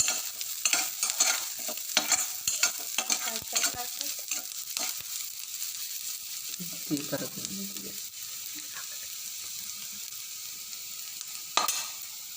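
Chillies frying in a pan for bhel, a soft crackling sizzle with quick scraping stirs of a spoon, fairly close and moderately quiet, with a brief clatter near the end.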